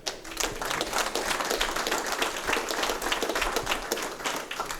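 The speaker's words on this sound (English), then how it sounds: "give them a round of applause" Steady applause from a crowd, dense clapping that holds at an even level throughout.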